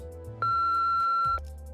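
A voicemail beep from the video game Limbus Company sounds right after a recorded message: one clear, steady electronic tone that holds for about a second and then cuts off, with no talking over it.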